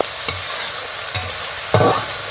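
A spice paste of ground ripe tomato, salt and turmeric fries in a pan with a steady sizzle, while a spatula scrapes and stirs it in three distinct strokes, the last one the loudest.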